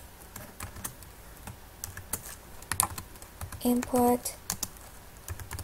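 Someone types HTML form code on a computer keyboard, producing irregular near clicks and clatter, with a short spoken word and a couple of brief tonal beeps in the middle.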